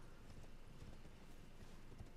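Hooves of a horse clip-clopping in the Elden Ring video game, a steady rhythmic patter heard up close with no talk over it.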